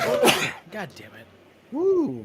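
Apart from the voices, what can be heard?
sneeze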